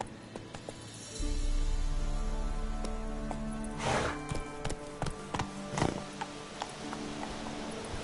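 Horse hooves clip-clop at a steady ridden pace in the Witcher 3 video game, a rhythmic run of distinct thuds over a low rumble, with a few louder scuffs and no talk.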